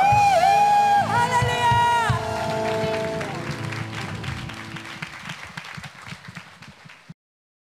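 A church congregation claps and cheers in praise, sung or shouted voices ringing out over the start before a loud burst of clapping fades out and stops abruptly.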